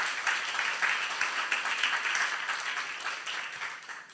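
A Korean church congregation at a youth service applauds in a full, steady burst of clapping from many people, holding level for several seconds before easing off slightly at the close.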